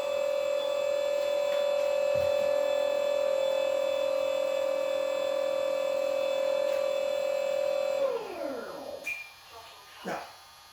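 An HSD F16 105mm Thunderbird model jet's electric ducted fan spins up to a steady high whine with a strong tonal hum on throttle, then winds down with a falling pitch and a few brief blips.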